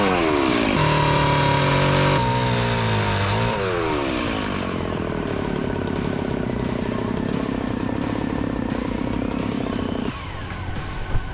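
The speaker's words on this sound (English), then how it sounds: "we've called in some reinforcements in the form of a chainsaw" Chainsaw working in a jungle to fell local trees, a loud, steady engine drone close by that rises and falls in pitch as the throttle changes, running continuously throughout.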